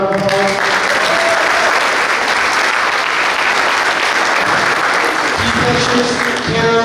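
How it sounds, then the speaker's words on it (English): Sustained applause from a large crowd at a boys lacrosse banquet, loud and even throughout, with a brief voice at the edges. "so give her a round of applause"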